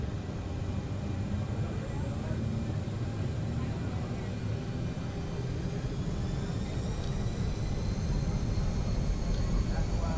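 Jet engines of a CRJ900 airliner in Microsoft Flight Simulator spool up for takeoff from San Diego, a steady broad roar with a slowly rising whine, continuous and moderately loud throughout.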